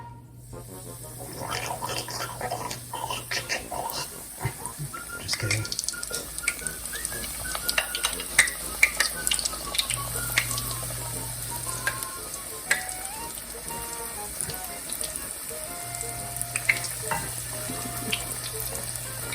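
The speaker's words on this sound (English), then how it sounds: "our oil is ready. I can tell because it's popping" Hot cooking oil in a pan, tested with a drop of water while preparing fresh fish, crackles and sizzles steadily throughout with scattered sharp pops, up close over a running, watery background; a short spoken remark comes through briefly.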